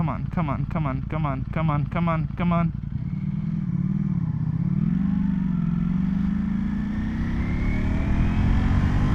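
A Ducati Panigale V4S motorcycle engine while riding: a steady drone that rises and falls in pitch under heavy wind rush, following a few seconds of someone talking.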